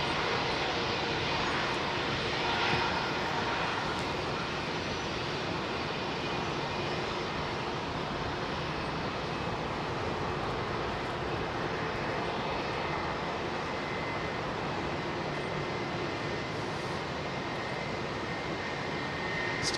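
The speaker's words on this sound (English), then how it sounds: "Chunky jet in it, the Dreamliner." Steady, loud roar of Boeing 787 Dreamliner jet engines at London Heathrow Airport, a broad, continuous rumble with hissing highs that holds for the whole stretch, with no talk over it.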